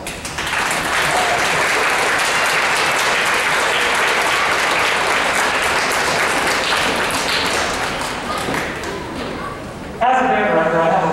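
A school band audience, mostly kids in bleachers, gives sustained, loud applause and clapping that holds steady for about ten seconds, with crowd noise mixed in and a voice beginning to speak at the end.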